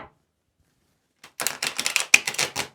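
Fairytale Tarot cards with a slightly slippery, semi-matte finish riffle shuffled after a second of silence, a rapid fluttering burst of card flicks followed by several quick bridge-and-tap clacks, close and moderately loud.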